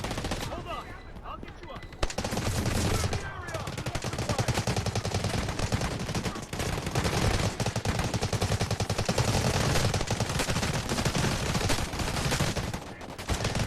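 Rapid automatic gunfire in the Delta Force video game, dense sustained bursts of shots that carry through nearly the whole stretch with only short gaps, loud and close.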